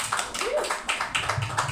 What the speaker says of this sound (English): let's have a round of applause for Nildi Blancada